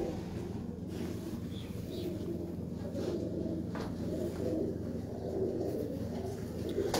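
Breeder pigeons from Chakwal coo in low, rolling, overlapping calls that continue steadily throughout, close by in a loft with faint background stirrings.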